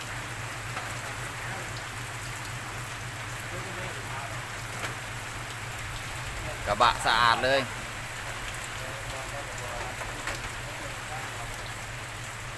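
Heavy storm rain pouring steadily onto the ground, a constant dense hiss throughout, with someone briefly speaking near the middle.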